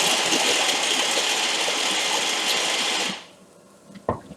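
A food processor whirring as it chops vegan stuffing ingredients into crumbs, a loud, steady buzzing motor for about three seconds that cuts off abruptly, followed by a brief clatter.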